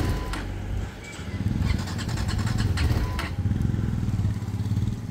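A BMW motorcycle rides along a mountain road toward Muktinath, its engine rumbling steadily and loud, with clattering thumps from the rough surface throughout.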